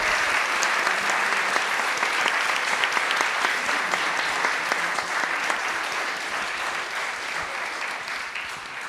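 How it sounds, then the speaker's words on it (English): Sustained audience applause for the speakers at the close of a panel session on citizenship and civil disobedience, steady dense clapping throughout that fades slightly toward the end. "let's just give them all a round of applause"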